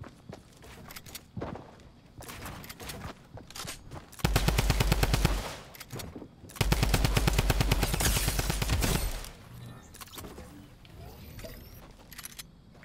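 A Tommy gun fires in long rapid automatic bursts in a video game, two loud sustained volleys separated by a pause, with scattered lighter shots and footsteps around them.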